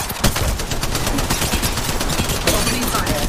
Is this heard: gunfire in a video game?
yes